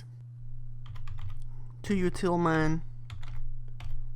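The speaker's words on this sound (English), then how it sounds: "So by typing ren cmd space" A computer keyboard is typed on to enter a command-prompt rename command, with quick, soft key clicks in short bursts under a voice and a steady low hum.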